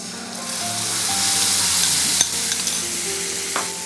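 Steady sizzling from spice water hitting a hot pan of crackled cumin, with light stirring and a few utensil clinks, continuous and close.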